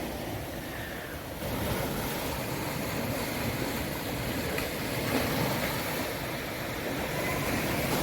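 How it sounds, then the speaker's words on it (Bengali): Sea waves at high tide wash onto Mandarmani beach in West Bengal, a steady broad surf roar with gusty wind noise running throughout, no distinct individual wave breaks standing out. "এখন জোয়ার চলছে, এখন কত কাছে সমুদ্রটা দেখো একবার"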